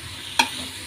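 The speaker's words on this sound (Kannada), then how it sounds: "ಇದನ್ನೆಲ್ಲ ಚೆನ್ನಾಗಿ ಮಿಕ್ಸ್ ಮಾಡೋಣ, ಸ್ವಲ್ಪ ಎಣ್ಣೆಲೇ ಫ್ರೈ ಆಗಲಿ ಒಂದು 2 ನಿಮಿಷ." Snake gourd stirred in a pan of hot oil, a steady sizzle of frying with one sharp scrape of the spoon near the middle, close and alone with no talking.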